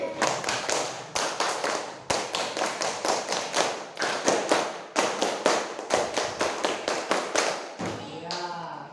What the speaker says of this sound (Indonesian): kita tepuk pramuka dulu, ya. Tepuk pramuka 2 kali.